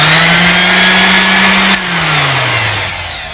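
A RYOBI RS290G orbital sander runs loud and close with a steady high whir and hum, then its pitch drops and winds down partway through as the motor slows.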